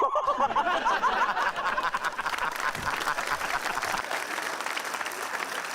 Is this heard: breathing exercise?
no